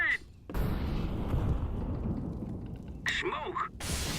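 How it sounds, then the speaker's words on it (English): A video game grenade detonates in a loud, broad boom that rumbles and decays over a few seconds, followed by a sharper burst near the end. "I am throwing a grenade."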